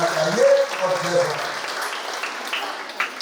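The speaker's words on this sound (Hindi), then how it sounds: "इसलिए तालियों के आवाज से कपिल अग्रवाल जी का भी स्वागत करना चाहिए" Audience applause at a Chhattisgarh women's gathering welcoming a guest, a steady broad clapping wash that holds evenly for about three seconds, with a brief voice over the opening moments.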